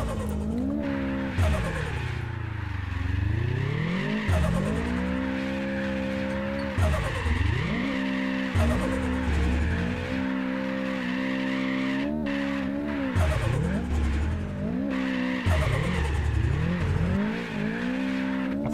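A car sliding sideways in a drift video game with realistic drift physics, its engine revving up and down in repeated sweeping swells while tires squeal continuously throughout.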